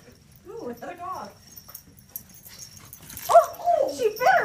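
A puppy whimpers and yips in short, high-pitched bursts, first briefly then in a louder run near the end, close by with quiet background between calls.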